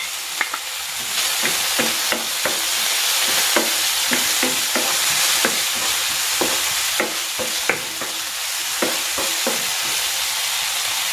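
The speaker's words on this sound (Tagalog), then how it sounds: "Igigisa ko na dito itong bawang. At itong sibuyas." Garlic and onion sautéing in tuna oil in a pan, a loud continuous sizzle with regular sharp spatula scrapes and knocks against the pan, no talking.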